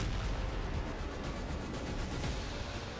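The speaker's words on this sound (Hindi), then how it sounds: "शांत समंदर में एक जोरदार धमाका होता है" A loud explosion out on a calm sea, heard as a steady, dense roar with rumbling bursts that fill the whole short stretch without pause.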